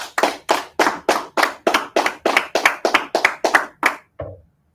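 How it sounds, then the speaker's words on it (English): Hands clapping in a steady rhythm, about fourteen sharp claps spaced roughly evenly, close and crisp, ending with a softer final clap, no talking over them. "Clap it up."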